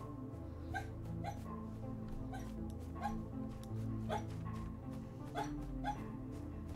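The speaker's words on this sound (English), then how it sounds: "I don't know if you could hear that, but that was my dog." A dog barking in its sleep gives soft, muffled yips and whimpering woofs at irregular intervals, faint and close, over a low steady background hum.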